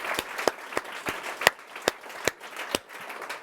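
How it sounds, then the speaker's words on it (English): A small audience at a debate event claps sparsely, about a dozen distinct, separate claps spaced out over a few seconds, sharp and fairly close against a quiet room. "Let's have another round of applause."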